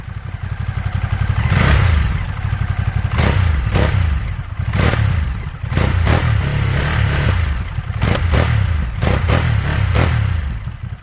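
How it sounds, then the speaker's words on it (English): A Ducati motorcycle on its stock exhaust is revved repeatedly close by, a loud rough idle broken by several sharp blips that rise and drop back, with no voices. "Now let's hear what the stock exhaust sounds like."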